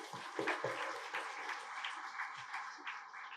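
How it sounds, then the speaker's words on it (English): An audience at a Yoga Day college gathering clapping in appreciation, a fairly soft, scattered patter of hands that carries on unevenly for a few seconds. "let us appreciate the spiritual scientist Patanjali with claps"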